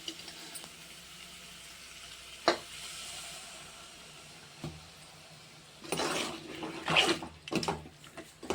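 A small glass of water is poured into a pan of frying mutton keema pulao, setting off a loud sizzling burst after a quiet low simmer, with a few sharp clinks before it.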